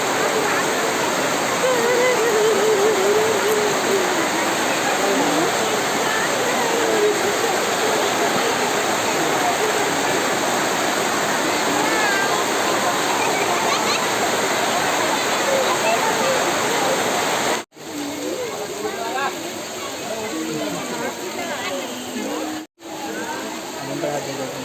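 Heavy rain at a circus ground hisses as a loud, dense, continuous wash of water noise, broken only by two brief dropouts late on.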